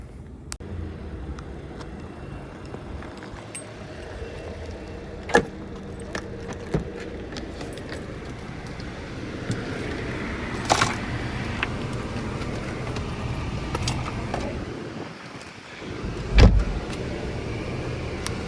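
A car's ambient road rumble runs steadily throughout, with scattered clicks and knocks from inside the cabin, a jangle of keys and a brief whirring like a power window, all moderately loud and close with no talking.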